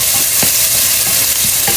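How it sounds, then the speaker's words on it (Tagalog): Garlic sautéing in a pan for native chicken tinola, a loud close sizzle under a few scraping stirs of the spatula, brief and without talk. "Lagay na natin ang bawang."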